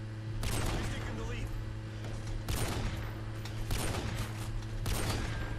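Bursts of gunfire in a shooter video game, three or four clustered volleys spaced across the stretch over a steady low hum, with a voice talking faintly underneath.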